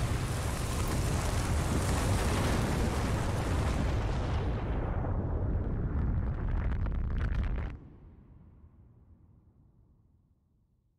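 A video game explosion gives a loud, sustained rumbling roar with dense crackling debris that holds for about seven seconds, then cuts off sharply and leaves a faint fading tail.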